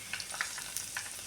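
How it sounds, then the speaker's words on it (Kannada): A tempering for curd sambar sizzles in hot oil, giving a close, steady crackle with small pops scattered through it and no talking. "ಇವಾಗ ಇದನ್ನು ಒಗ್ಗರಣೆ ಇದಕ್ಕೆ ನಾವು ಹಾಕೋಣ."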